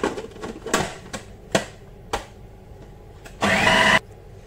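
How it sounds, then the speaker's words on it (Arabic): Kitchen blender whirring in one steady burst of under a second, chopping chicken pieces with spices, after a series of sharp clicks and knocks from setting up the machine. "ودي شكلها خلاص بعد ما ضربناها في الخلاط"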